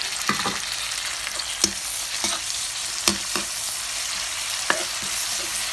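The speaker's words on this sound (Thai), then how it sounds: "แม่จะใส่หอยลงเลย" Paddy crab and snails sizzle loudly in a hot wok with basil as a Thai stir-fry is cooked, a constant frying hiss broken by scraping stirring clacks, no voices.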